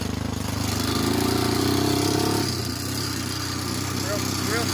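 A Honda 300EX ATV runs in first gear with a loud, buzzing engine note that rises, then settles into a lower, steady idle-like chug, with a voice speaking over it.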